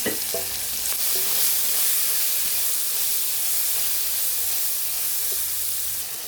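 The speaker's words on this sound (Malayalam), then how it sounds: "നമ്മുടെ സവാള ഉള്ളിയും ക്യാരറ്റൊക്കെ ഒന്ന് വഴണ്ടിട്ടുണ്ട്." Onion and carrot sauté in hot oil with green chilli, curry leaves and turmeric, giving a steady close sizzle and hiss with a few faint stirring clicks, no voices.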